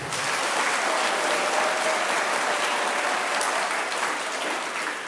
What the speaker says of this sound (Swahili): Tupigie Mungu makofi.